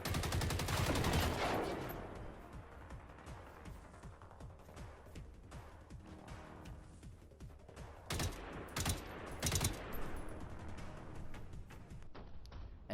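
Gunfire in the video game Generation Zero, a heavy opening burst of rapid shots followed by scattered single cracks and a few loud volleys near the end, close and with no talk.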